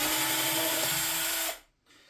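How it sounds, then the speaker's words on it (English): Power screwdriver or drill backing out side screws on an appliance panel, one continuous high whirring run that stops abruptly, followed by a brief quiet tail. "I'm going to unscrew the ones on the side as well."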